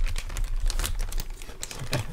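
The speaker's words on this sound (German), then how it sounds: "Da holt er erstmal die Chips-Tüte raus." A bag of chips rustles and crinkles up close, with a busy run of uneven crackles and taps that continues throughout.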